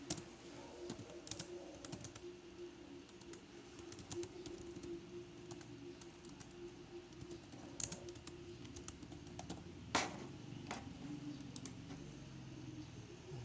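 Soft, rapid clicks of a computer keyboard as data is typed into a web form, continuing steadily with a faint background hum and no talking.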